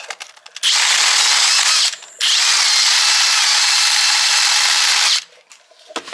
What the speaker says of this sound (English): it's better to drill the holes before you cut to length